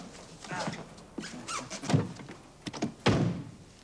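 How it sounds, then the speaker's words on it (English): A door is opened with a few sharp thunks and a brief squeak, close by and fairly loud against a quiet room. "Helps if you open the door."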